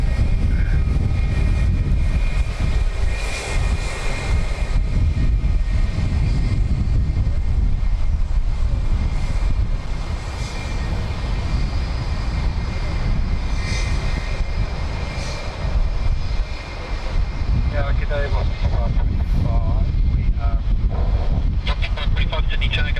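An airplane taking off from runway 16 right at Sydney Airport roars loudly and steadily for the whole stretch, mixed with heavy wind buffeting on the microphone and occasional voices talking over it.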